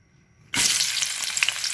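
Onion and garlic drop into a hot pan and burst into a loud, sudden sizzle after a quiet moment, then keep frying steadily and close up with crackling spikes.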